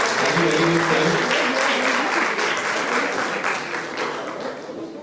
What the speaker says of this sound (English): Let's give our applause to you.